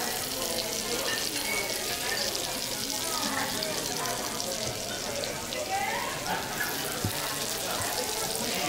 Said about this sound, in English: It's all about the sizzle.